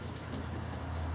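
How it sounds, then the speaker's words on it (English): A pet racing pigeon, a hen, coos softly and steadily in a loft, a low murmuring call sustained for a moment with no talk over it. "This is a pigeon I call Marika."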